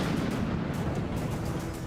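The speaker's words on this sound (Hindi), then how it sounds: "बैटल ग्राउंड पर यूक्रेन ने फ्रांस से बनी सीजर होवित्जर तोपों का इस्तेमाल किया।" French-made Caesar wheeled howitzers fire on a Ukrainian battlefield, heard as a dense, continuous low boom and rumble, loud and sustained without separate distinct shots.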